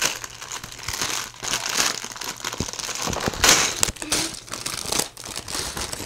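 A plastic bag from a Lego Friends Pop Star Limo set is torn open and handled, giving close, continuous crinkling and rustling with sharper crackles and a brief tearing burst midway.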